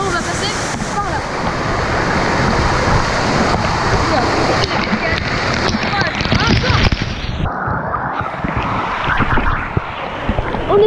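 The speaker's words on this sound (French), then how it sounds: "Là il y a des cascades, c'est vraiment magnifique." Waterfalls and fountains rush loudly and continuously inside the Aqualagon water park at Villages Nature, a dense, close wash of splashing water that shifts in tone partway through.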